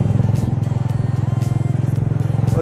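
A motorcycle rolling downhill on a mountain road, its engine thumping in a fast, steady, loud pulse close by, with faint wind noise over it.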